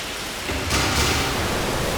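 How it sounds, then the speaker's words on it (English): Steady rain in the prison-building game Prison Architect, a broad hissing wash that swells slightly louder partway through and continues evenly. "Does it matter that it's raining now?"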